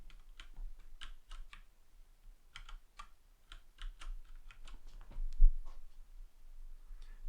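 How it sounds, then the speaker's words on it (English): Typing on an Ergodox EZ keyboard produces a close, steady run of clacky keystrokes with short pauses between bursts and no talking. "Keyboard sounds clackier."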